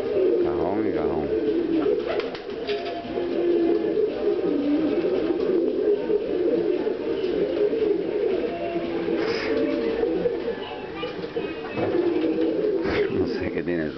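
A pigeon cooing repeatedly in a pigeon-keeping setting: low, throaty rolling coos that keep going almost without a break, close by, while people talk in the background.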